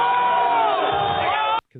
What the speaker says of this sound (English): Why are they cheering?